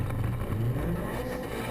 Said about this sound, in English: High-powered cars going sideways, burning their tires off